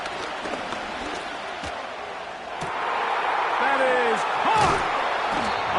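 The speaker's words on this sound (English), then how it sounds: "The crowd cranking it up another notch before 3rd and long." Stadium crowd in the Madden NFL 25 video game roars steadily before a third-and-long play, the broad wash swelling louder partway through, with thuds and a commentator's voice faintly under it.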